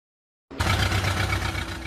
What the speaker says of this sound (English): revving his engine for his favorite team